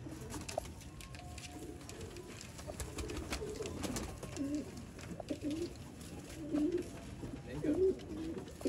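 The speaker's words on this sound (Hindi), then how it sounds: "अच्छे गोल्डन कबूतर कैसे होते हैं, ऐसे होते हैं जनाब" Golden pigeons coo in soft, low, repeated phrases at close range over steady background noise.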